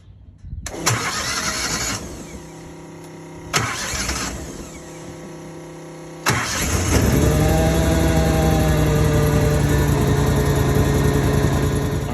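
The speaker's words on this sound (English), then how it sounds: "First thing I'm going to do is start the machine, pull the choke, throttle partially the way out." A Sapphire 370 carpet cleaning machine engine is started with the choke pulled and throttle partly out: two loud cranking bursts die back, then a third catches into a steady, loud running idle close by.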